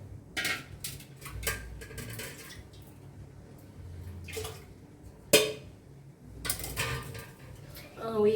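A spoon scrapes and knocks against a cooking pot while thick red bean soup is stirred, in irregular clattering bursts with one sharp metallic clank, close by amid quiet kitchen noise.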